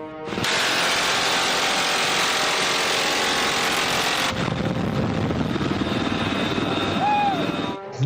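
A UH-60 Black Hawk helicopter roars steadily and loudly overhead, its dense rotor and turbine noise continuous throughout, with the sound shifting in tone partway through.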